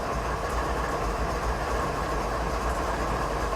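A CP ES44AC diesel locomotive in Train Simulator 2015 rumbles steadily and loudly, a continuous engine drone with rolling rail noise and no voices.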